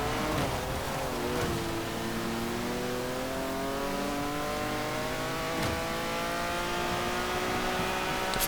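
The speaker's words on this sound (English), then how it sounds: "Definitely sounds better though," A rally car engine in Forza Horizon 4 revs hard on a circuit, climbing through gears with rising and falling tones, loud and continuous with a few shift breaks.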